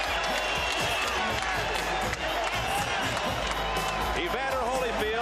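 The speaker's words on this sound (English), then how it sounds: "Gets the greeting from the crowd." An arena crowd roars as boxer Evander Holyfield enters the ring, a broad, sustained cheer with scattered clapping, while a commentator talks over the noise.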